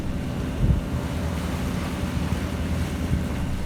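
Wind roars over a sailboat out at sea, a steady, close, full rush with light thumps of buffeting and no voices.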